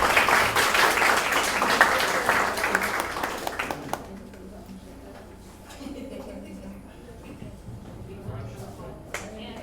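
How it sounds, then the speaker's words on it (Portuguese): Dense applause from an audience at a session ahead of mini-courses rolls for about four seconds, then quickly dies away into a quieter room with some talking. "a salva de palmas para isso"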